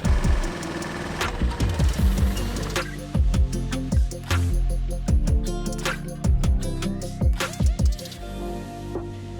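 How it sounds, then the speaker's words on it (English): Mini excavator digging out the center of a dirt bike jump, its diesel engine rumbling with repeated clanks and scraping thuds as the bucket bites into dirt, loud and close throughout. "I'm going to use the mini excavator to dig out the center"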